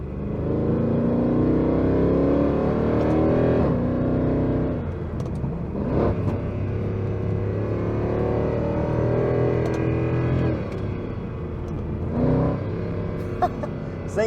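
A 2009 Mercedes-Benz C63 AMG W204 with a 6.2-litre-class V8 and Stage 2 Eurocharged tune rumbles and revs while driving, steady loud engine drone with rising and falling surges heard from inside the car, no talk.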